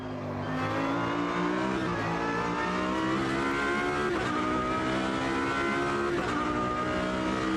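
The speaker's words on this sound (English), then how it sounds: "So you can hear all of this cool" A race car engine in the racing game Automobilista 2 drones at high revs throughout, pitch rising with each gear and dropping briefly at shifts, loud and steady with no talk.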